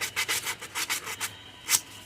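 A block of poplar wood is sanded by hand with coarse 80 grit sandpaper, a series of close, rhythmic rasping strokes, about eight quick rubs followed by a pause and one final sharper stroke.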